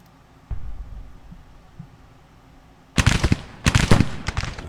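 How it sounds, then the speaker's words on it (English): Civil War artillery in the game Grand Tactician: The Civil War, a few scattered dull thumps first, then loud close clusters of rapid cracking blasts rolling through the last couple of seconds. "That's his artillery fire."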